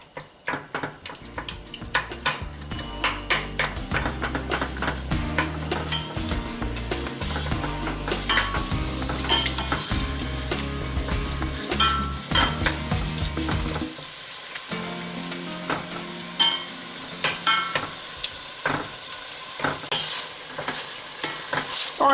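Italian sausage browning in a pot, broken up like ground beef, loud crackling sizzle with a busy run of spoon scrapes and clinks against the metal, close, briefly easing before the stirring resumes.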